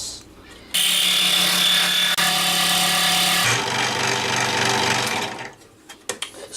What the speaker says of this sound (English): Or you can do it by hand with a handsaw.